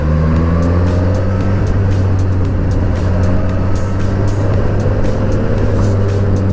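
A Suzuki GSX-S1000 motorcycle's 1000cc engine holds a loud, steady, close drone with strong low harmonics and no pauses.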